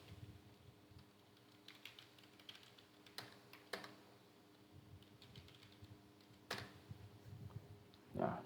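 Keys on a PC keyboard are tapped at an industrial touch panel in irregular, quiet bursts of clicks, with a couple of sharper strikes and brief pauses between them.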